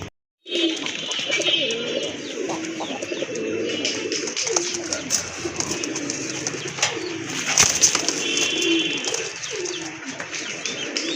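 Native Bengali pigeons coo repeatedly in low, soft, throaty rolls, close by, with occasional light chirps and rustles among them.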